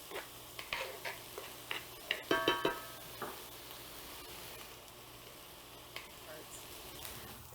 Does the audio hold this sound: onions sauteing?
yes